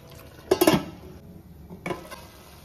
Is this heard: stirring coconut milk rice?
yes